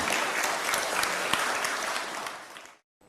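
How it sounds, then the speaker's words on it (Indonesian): Audience applause at a spiritual talk, a dense steady burst of many hands clapping, fairly close and even, fading out toward the end with no speech over it. "Tepuk tangan."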